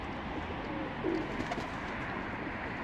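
A pigeon in a pigeon coop coos softly once or twice against steady background noise, with no other clear sounds.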